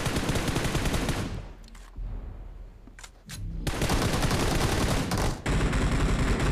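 Gunfire in the mobile battle royale game PUBG Mobile: loud sustained automatic bursts that drop out briefly, with a few isolated sharp shots in the gap, then the rapid fire resumes heavily to the end.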